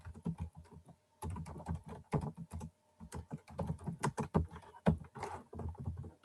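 Rapid, uneven keystrokes on a computer keyboard while coding a simple PHP calculator, close and steady in clustered bursts with one short pause, no talking.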